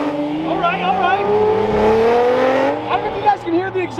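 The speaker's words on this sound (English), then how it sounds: "Can hear the exhaust over the event where the V12 is a little bit loud." A Lamborghini Revuelto V12 exhaust revs loudly at a busy event, its rising engine note climbing over the first few seconds amid crowd chatter and voices nearby.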